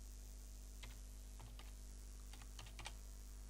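Keystrokes on a computer keyboard while entering a comment in a Word document, a few short clusters of soft taps scattered over a steady low electrical hum, close and fairly quiet, with no voices.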